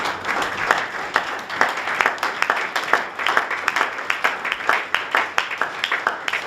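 A church congregation applauding during a service, a loud, close wash of clapping hands that pulses in uneven waves as it continues for several seconds.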